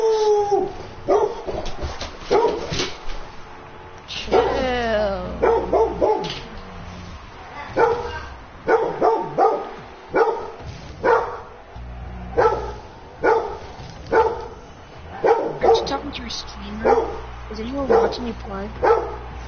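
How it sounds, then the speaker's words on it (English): A dog barks repeatedly in short, loud, close bursts, interspersed with yips and whines, while people talk over it during a Rocket League gaming session. "I don't think it's pleasant for them to hear a dog barking."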